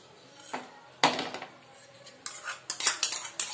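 A spoon scrapes and clinks against a bowl while curd is stirred into mashed potatoes for an aloo curd curry, in a few short, fairly quiet bursts of scraping and clatter with brief gaps between.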